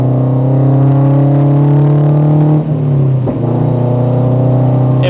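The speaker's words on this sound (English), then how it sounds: "If you guys add this onto your car, you might notice a bit of like a noise, like an intake noise." Steady, loud engine drone from a Toyota 86 / Subaru BRZ fitted with an aftermarket intake mod, with a low hum and whirring intake tone, dipping briefly twice as the revs shift, then holding steady.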